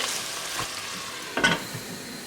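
Chicken biryani masala fries in a pot over a low-medium flame, giving a steady soft sizzle broken by a couple of scraping stirs, close and fairly quiet.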